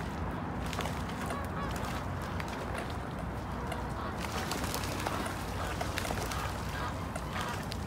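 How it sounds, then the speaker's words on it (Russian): A flock of geese honking and cackling continuously close by, a dense, noisy chorus with no pauses. "Остальное гуси съели."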